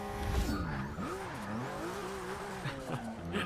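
A Porsche 911 GT2-RS races in Forza 6, with a wavering, whining tire squeal over a low engine drone. Faint rumbling comes and goes underneath.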